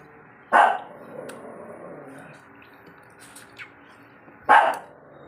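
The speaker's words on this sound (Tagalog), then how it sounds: "ang ingay ng doggy ko" A dog barks twice, a few seconds apart, sharp and fairly close, with quiet background clatter between the barks.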